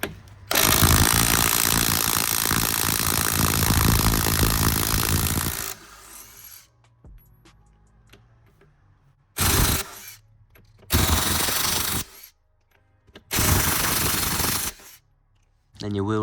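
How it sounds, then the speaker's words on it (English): A cordless drill fitted with a 19mm socket spins off the wheel nuts on a Subaru Impreza WRX, sounding in loud whirring bursts: one long run, then three shorter ones separated by quiet pauses with light clinks. "you just want a 19mm, put it on your drill, and then we can take these off."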